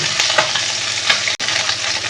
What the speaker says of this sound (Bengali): এখন মাছগুলোকে আমি উল্টে দিয়েছি এবার ঠিক একইভাবে ওপাশটা লাল লাল করে ভেজে নেবো